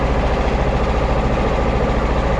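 The engine of a boat crossing the Jalangi river drones loud, close and unbroken, a steady, heavy, rumbling hum with no voices over it.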